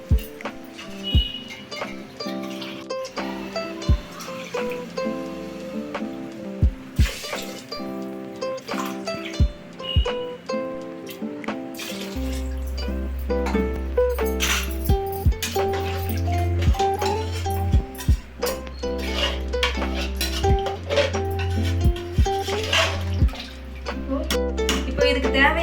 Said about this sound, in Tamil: இப்போ 3 டம்ளர் தண்ணி வைக்க போகிறேன்.